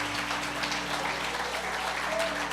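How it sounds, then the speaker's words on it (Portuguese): A church congregation applauds during an evening service, a continuous wash of clapping at moderate loudness over a low steady hum. "Aplauda a Deus por isso nessa noite"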